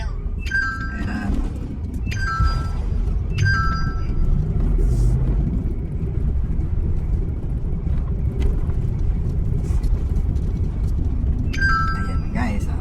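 A car rolls slowly through a shortcut from Tandang Sora toward West Fairview off Commonwealth Avenue. Its low, steady rumble runs throughout, broken by a few short high chirping tones, with faint voices in the background.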